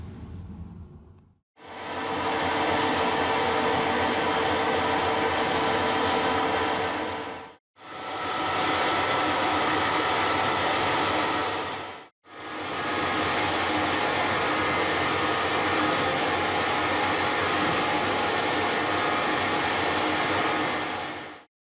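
A metal lathe taking 1 mm roughing cuts on a 60 mm steel bar, a loud steady broadband cutting roar that runs in three long passes with brief pauses between them, and no talk.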